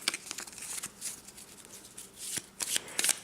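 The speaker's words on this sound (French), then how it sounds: "Maintenant, nous prenons les 6 tuiles que nous allons mélanger." Six cardboard tiles from the Small Detectives board game are mixed by hand on a table, giving a close, soft, continuous shuffling and sliding rustle with brief louder scrapes and no speech.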